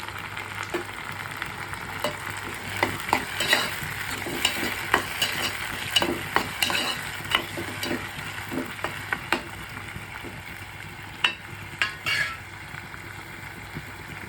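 Tomatoes fry with green chillies in a pan, a low steady sizzle broken by intermittent scraping stir strokes, close and moderately quiet, with no talk.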